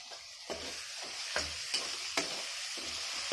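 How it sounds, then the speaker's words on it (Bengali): Tomatoes salted and fried in a pan for a mutton mince and lentil dish sizzle steadily up close, with periodic scraping stirs every half second or so and no talking. "এবার দেবো টমেটো। টমেটো দিয়েও আবার একটু নুন দিয়ে দেবো।"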